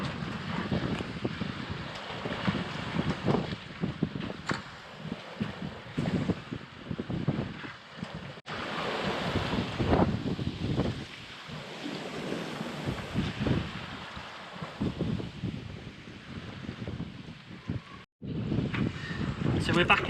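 A sailboat runs downwind off the English coast near Studland Bay at almost 8 knots, with steady wind rushing across the microphone and waves washing against the hull, loud and close; voices talk now and then over it.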